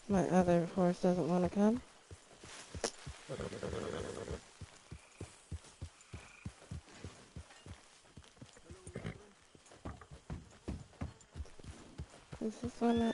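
Rhythmic hoof clip-clop of a galloping horse in a video game, a steady run of sharp, evenly spaced beats under intermittent speech, with a sung or tonal voice at the start and end.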